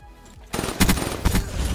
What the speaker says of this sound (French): Faut juste tirer, continuer à tirer.